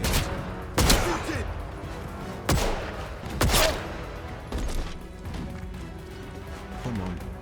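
Gunfire from the video game Atomfall: a few sharp, loud shots spaced irregularly over game ambience, with one rapid cluster, close and punchy, while someone talks over parts of it.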